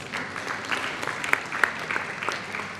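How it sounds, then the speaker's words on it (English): Audience applause at a women in marketing and communications conference and awards event, a dense wash of many hands clapping that holds steady throughout, with a few sharper claps and whoops poking out near the middle. "I thought I'd get a round of applause for that."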